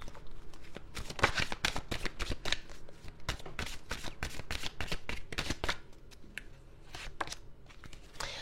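Tarot cards are shuffled for a reading in quick, crisp riffling bursts, close and fairly quiet, repeating in an irregular rhythm with no talk over them.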